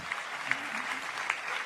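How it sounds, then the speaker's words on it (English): Steady applause from a crowd during a podcast show, a dense wash of clapping with a few sharper claps standing out, moderately loud and continuous throughout. "And a big hand clap goes there."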